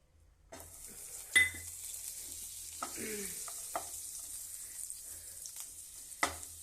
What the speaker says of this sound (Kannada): ಇವಾಗ ನೋಡಿ ಬೆಣ್ಣೆ ಹಾಕ್ತೀನಿ